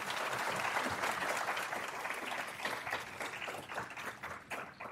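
Audience at a crime victims' rights week ceremony applauds to welcome a speaker, a steady wash of many hands clapping for several seconds, moderately loud and even throughout.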